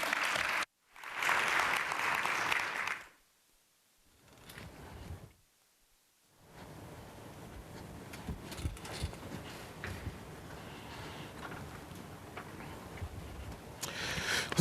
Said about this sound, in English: Let's give one more round of applause for our chairman of our national board and our friends at the Walmart Corporation.